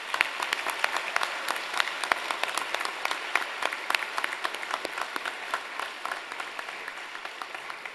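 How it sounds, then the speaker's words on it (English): Graduation-style celebration audience gives a final round of applause for instructors, moderately distant clapping from a modest crowd with distinct individual claps standing out in an even, continuous patter. "let's have one final round of applause for the great achievements of our instructors"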